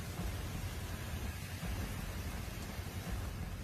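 Heavy, continuous rain pours down in Navsari, Gujarat, a steady dense broadband roar with a low rumble underneath and no voices.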